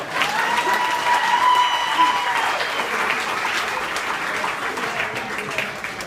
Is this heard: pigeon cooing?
no